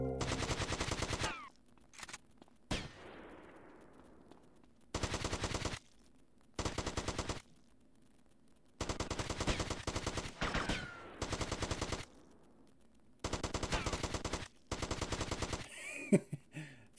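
AK rifle gunfire in GTA Vice City, loud sustained automatic bursts separated by short silences, about eight bursts in all, with a brief fading tail after one of them.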